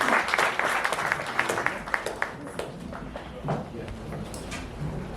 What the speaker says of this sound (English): Can you give him a big round of applause?